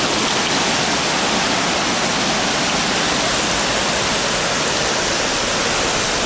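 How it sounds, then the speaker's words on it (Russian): A dense, steady roar of hail pounding down in Alanya, Turkey, without a break, loud and close throughout. "Опять пошел град."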